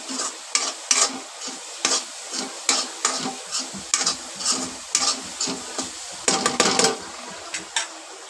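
A coconut mixture for Marathi steamed rice-flour modak is stirred and sautéed in a pan, with a soft sizzle under a quick, even run of loud close scrapes and taps from the spoon; no voices.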